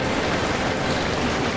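Steady rain falling during a story scene, a dense even hiss of drops with no pauses or talk, fairly loud and close throughout.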